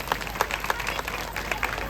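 A village gathering claps for its teachers in a short burst of lively applause, many hands patting unevenly and fairly close, with no voices.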